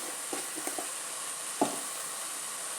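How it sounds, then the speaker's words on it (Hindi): About a teaspoon of cumin seeds sizzles in hot oil in a pan for a meat and potato curry, a steady close hiss broken by a few light crackles and one sharper pop. "अभी इसमें मैं थोड़ा ज़ीरा डालूँगी, तकरीबन 1 टीस्पून जो है ये डाल दिया।"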